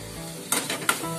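Dried bombil (Bombay duck) with homemade garam masala sautés in a pan, a quiet steady sizzle broken by two sharp scraping stirs of a spatula close by.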